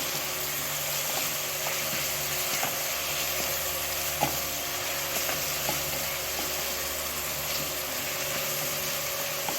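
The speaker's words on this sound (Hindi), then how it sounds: "इसको अच्छी तरह से सौटे कर लेंगे।" Onions sauté in a pan for a chicken sandwich, producing a steady, even sizzle with an occasional faint tap of stirring, close and constant throughout with no talking.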